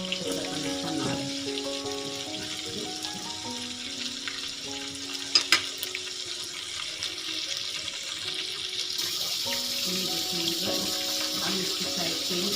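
Chicken pieces frying in a pan of oil, a dense steady sizzle with some clinks and stirring, loud and close, with a faint tap of water in the background and no talking.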